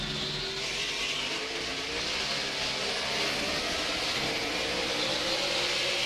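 A field of NASCAR race cars roars continuously as they accelerate on a restart after the pace car pulls away, a dense distant wall of engine noise that swells slightly, with no talk.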